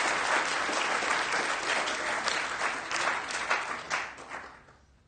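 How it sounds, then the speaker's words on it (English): Conference audience at a DrupalCon Amsterdam 2014 talk breaks into loud, sustained applause with dense clapping that holds steady for about four seconds, then thins and fades out. "Applause, please."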